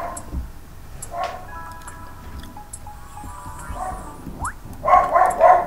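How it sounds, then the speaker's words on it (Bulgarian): A dog barks a few times near the end, loud and close, after a stretch of quiet room noise with scattered faint clicks and taps. "има кучето лай"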